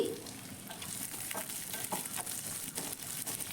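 Onions, green chillies and garlic frying in a pan, producing a continuous close sizzle with soft, irregular stirring scrapes and light crackles.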